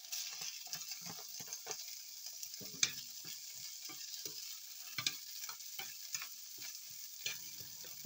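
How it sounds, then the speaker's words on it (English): Fresh seasonings and already cooked vegetables sauteed in a greasy pan, a soft, quiet sizzle with a rhythmic run of stirring taps and scrapes throughout, no talk. "So I'm just sauteing these nice fresh seasoning just a little bit."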